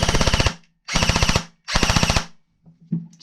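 An airsoft gun fitted with a Gate Aster trigger rips off three rapid full-auto bursts, each about half a second long and separated by short pauses, followed by faint mechanical clicks.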